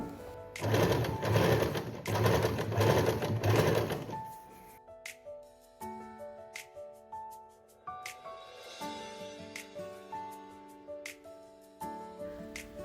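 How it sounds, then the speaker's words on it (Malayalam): A sewing machine stitches a V collar neckline in a fast, dense, rhythmic rattling burst of about four seconds, followed by softer intermittent clicks and mechanical taps. "ആദ്യം തന്നെ ലോക്ക് ചെയ്ത് കൊടുക്കാം അതിനുശേഷം നമുക്ക് സ്റ്റിച്ചിങ് തുടങ്ങാം"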